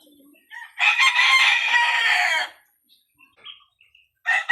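An eight-month-old Golden Boy Sweater gamefowl rooster, medium height and bulky, lets out one loud, clear crow lasting well over a second, with a short lead-in call before it and faint clucks after.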